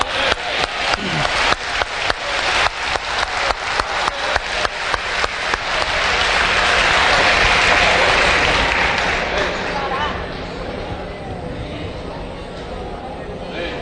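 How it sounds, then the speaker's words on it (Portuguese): A church congregation at a conference in Brasília claps in a quick, regular rhythm, then breaks into a louder burst of free applause that swells and slowly fades. "Então palmas para Jesus Cristo."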